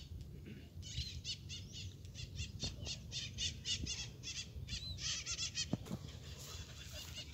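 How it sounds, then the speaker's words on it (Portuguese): Repeated high, squawking bird calls in quick bursts over a low outdoor rumble, fairly close and continuing throughout. "Passarinho tem um lamento triste, ó."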